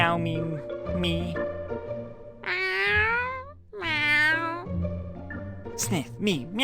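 Two drawn-out, wavering meows, loud and close, with shorter vocal sounds around them; the meowing could be a voice imitating a cat.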